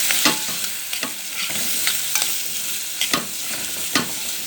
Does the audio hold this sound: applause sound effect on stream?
no